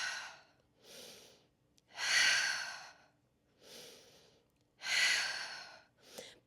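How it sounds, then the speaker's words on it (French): Slow yoga breathing, with five or six steady, airy inhales and exhales in an even rhythm, close and clear with quiet pauses between breaths. "Inspire, expire."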